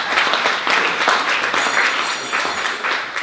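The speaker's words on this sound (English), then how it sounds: "round of applause for our first timers one more time" A room full of people applauds first-time attendees at a lunch gathering, a loud, continuous wash of many hands clapping throughout with no talking over it.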